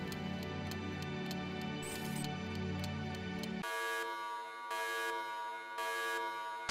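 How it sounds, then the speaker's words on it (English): An electronic alarm beeps in a rapid repeating pattern, then shifts to a higher, brighter tone pulsing in regular bursts, loud and close. "Your alarm rings."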